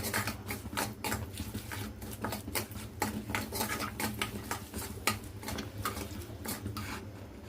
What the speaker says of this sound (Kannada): ಇದನ್ನೊಮ್ಮೆ ಕೈ ಆಡ್ಸ್ಕೊಂಡಿದ್ದೀನಿ.